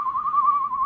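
A voice whistles an imitation of a spit-cup whistle, a steady high tone lasting under a second, close and clear, alone with no talk.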